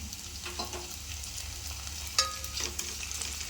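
Onions and small tomato pieces frying in sesame oil in a pan for an egg gravy, with a steady close sizzle and a few scraping stirs of a spoon, alone without talk.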